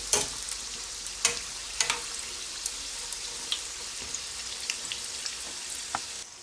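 Tortilla samosas frying in oil over medium heat, a steady bright sizzle with scattered pops and occasional clatter as the pieces are turned, close and continuous with no talking.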